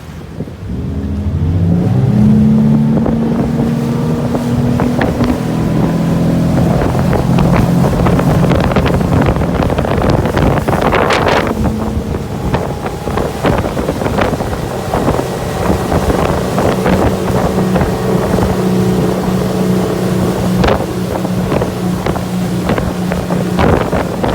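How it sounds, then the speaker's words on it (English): A 2021 Steiger Craft 255 DV motorboat gets underway in Miami, its engine rising from a low idle into a loud, steady drone as it accelerates, with heavy wind rushing across the microphone. "So I think Aaron's ready to go, so I'm going to take a seat here and get underway"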